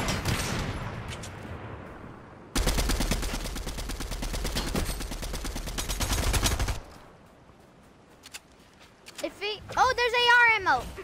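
Rapid automatic gunfire from a video game, a loud sustained burst lasting several seconds with quieter shots before and after, followed by a person talking.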